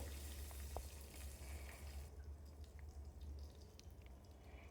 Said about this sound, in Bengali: এই তেলেই আমি ফোড়ন দেব এবারে কালো জিরে আর কাঁচা লঙ্কা